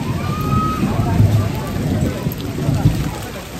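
Rain falling outdoors makes a dense, steady hiss and patter throughout, fairly loud and close, with a faint voice audible underneath.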